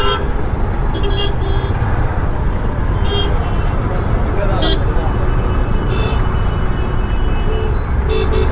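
Traffic at the congested Kharadi bypass in Pune, with engine rumble and repeated short car horn toots, loud and close, while someone talks over it.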